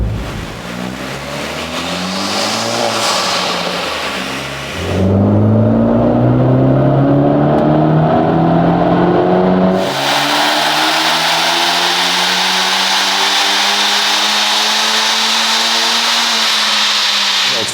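Tuned Honda Type R running an E30 ethanol blend with a COBB Accessport and intakes, heard from inside the cabin while driving: a loud, continuous engine drone rising and falling in pitch through several revving pulls, with no talk.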